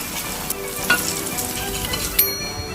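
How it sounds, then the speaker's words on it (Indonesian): Chicken nuggets fry in hot oil with a steady crackling sizzle and scattered sharper pops, close and constant throughout. "Buatnya gampang, tinggal goreng nugget."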